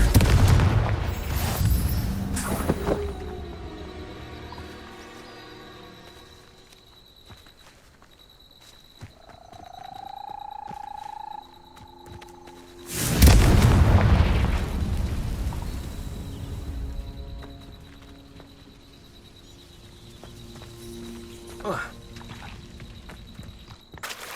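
Confringo fire-spell explosions in Hogwarts Legacy, a loud blast at the start and another heavy burst around thirteen seconds, with quieter game ambience, a brief tonal effect and rustling between them.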